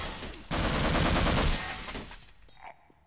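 Rapid gunfire from the Half-Life video game rattles out in a loud, dense burst of shots lasting about a second, then tapers off into scattered fainter pops.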